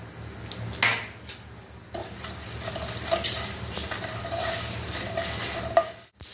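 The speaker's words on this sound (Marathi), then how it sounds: "तेल गरम झालेलं आहे. आता यात मी ही मोहरी टाकत आहे. आता हे हिंग आणि हे मेथीचे दाणे" Mustard seeds, asafoetida and fenugreek seeds sizzle in hot oil in a pan, a steady crackling fry with spoon stirring and clinks of utensils against the pan throughout.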